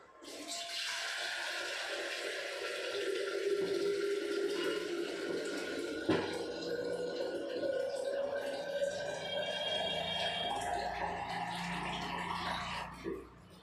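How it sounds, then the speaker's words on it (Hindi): Tap water running steadily into a kadai (wok) to fill it, a continuous splashing rush that lasts throughout, with a clink partway and faint household sounds. "ये देखो, पानी से भर देती हूँ।"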